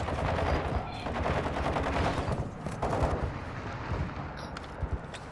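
Rapid gunfire from a Call of Duty match, with sniper shots among dense, continuous bursts of shooting that stay loud throughout and have brief sharp cracks on top.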